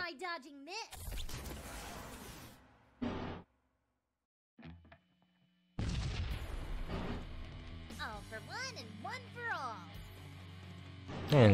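Missile launches and explosions in the space battle game Sunrider: Mask of Arcadius, loud bursts and rumbling blasts separated by silent gaps, mixed with chirpy electronic effects and character voices.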